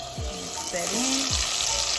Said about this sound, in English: Cook that garlic until it gets fragrant.